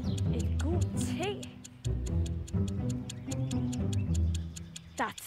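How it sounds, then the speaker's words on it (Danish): Steady clock-like ticking in a Danish children's programme, regular and fairly loud throughout, with music and other sounds underneath. "Der tikker."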